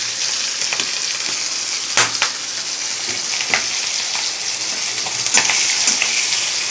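Panch phoron whole spices sizzle in the hot oil left from frying fish, a bright continuous crackle close by, with a few louder spits and stirring scrapes along the way.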